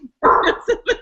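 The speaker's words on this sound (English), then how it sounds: "I'm gonna mute so you don't have to listen to my dog's bark." A dog barking close by during an online chat, one long bark followed by two shorter, sharp barks in quick succession, loud against an otherwise quiet background.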